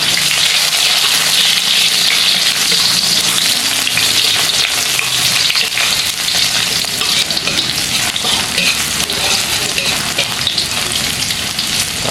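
Shallots, garlic and chayote sautéing in a frying pan, with continuous loud sizzling and crackling oil and occasional stirring scrapes, up close.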